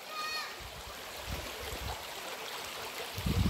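A river stream flowing steadily around someone standing in the water, a soft continuous rush with occasional splashes and low thumps close by.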